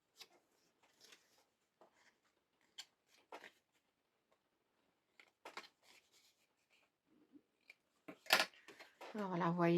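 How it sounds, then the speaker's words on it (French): Scissors snipping the edges of paper for a handmade album, a series of soft, sparse clicks and cuts up close, followed by a louder voice speaking at the end. "moi, je coupe mes petits bords."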